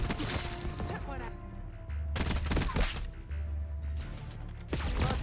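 Rapid bursts of laser gunfire in Black Ops 6, a Call of Duty Hardpoint match, sounding as dense, loud repeated volleys that pause briefly and resume over game effects.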